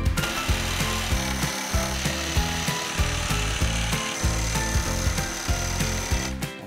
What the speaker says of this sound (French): Donc là, vous avez vu, Victor, il vient de percer les coins juste pour que je puisse insérer ma lame dedans